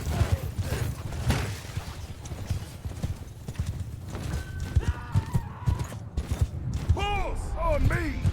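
Horse hooves clopping rapidly in battle within the video game Mount & Blade II: Bannerlord, a busy rhythmic gallop mixed with clashing combat noises, voices and a few whinnies, moderately loud throughout.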